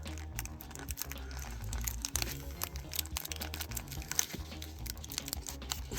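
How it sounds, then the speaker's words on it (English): Tape being peeled and plastic packaging crinkling as an action figure is freed, with close, irregular crackles, ticks and rustles over a quiet background and no talking. "See if we can get it off of the tape here without hurting it."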